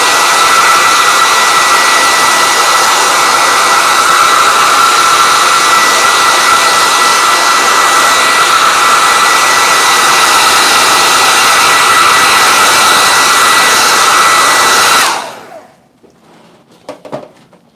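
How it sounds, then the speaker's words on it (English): A hair dryer blows with a steady, loud whooshing roar for about fifteen seconds, then cuts off, leaving faint clicks and rustles. "Okay, more hair dryer"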